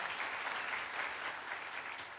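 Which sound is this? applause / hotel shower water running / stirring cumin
applause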